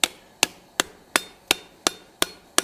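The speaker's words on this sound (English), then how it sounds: "now we're going to straighten out this a little bit by hammering on that area" A hammer strikes a forged steel spatula on an anvil in seven sharp, evenly spaced metallic blows, each ringing briefly before the next, close and alone.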